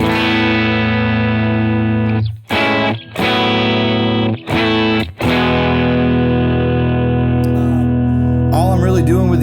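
Electric guitar played through Tonex amp models with light room reverb and compression rings out in sustained, distorted chords, briefly cut off by a few sharp stops before ringing on again, with no talking.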